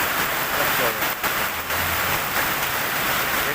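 Heavy monsoon rain pours down in Kerala as a dense, loud, unbroken hiss, with a few faint thumps and a voice briefly under the downpour.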